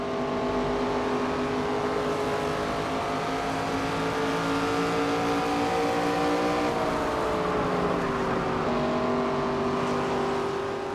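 Race car engine in the NASCAR 25 video game at Iowa Speedway, a loud steady drone held at high revs throughout, with a brief dip and pitch shift partway as the car lifts and reaccelerates.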